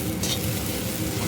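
Okra frying in a pan on low heat, a dense continuous sizzle with faint stirring scrapes, close and steady, no voices.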